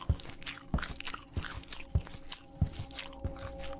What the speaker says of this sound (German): Helmut! Hör auf zu knuspern!